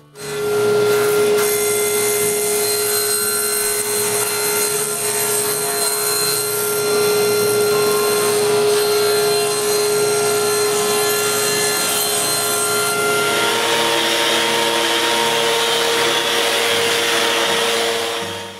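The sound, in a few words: power tool cutting wooden drawer bottom panels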